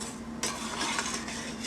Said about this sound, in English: I'm stirring it so everything gets mixed up.